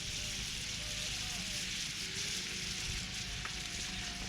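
Kerrygold Irish butter sizzles and crackles steadily as it melts and browns in a pan at a camp stove, a soft continuous frying hiss with no voices.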